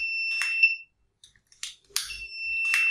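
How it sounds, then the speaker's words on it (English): The piezo buzzer of an Arduino flame-sensor fire alarm emits a steady high-pitched electronic tone that cuts out and returns, broken by crackly bursts of noise. "So flame detected, as well as you can able to hear a buzzer sound as well."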